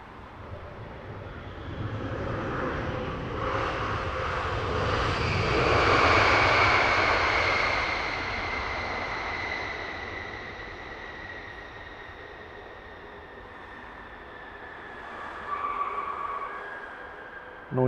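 A jet airliner lands at Heathrow Airport nearby, roaring loudly with noisy brakes, its engine whine swelling and then slowly fading into a long, steady rumble, with no voices.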